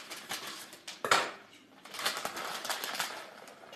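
Cassava, young coconut with its juice, and cheese stirred together in a bowl, giving soft irregular scraping and clinking of a utensil against the dish, quiet and close, with no speech.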